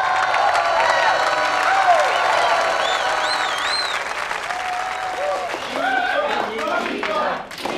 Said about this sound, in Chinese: 让我们以热烈的掌声欢迎集智慧和颜值于一身的男主角闪亮